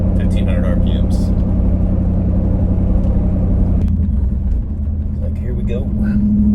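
A 2020 Jeep Wrangler 392 SRT with a 3.5-inch Magnaflow exhaust cruising at low revs in a high gear, a loud, steady, deep engine and exhaust drone with a slight dip in level partway through.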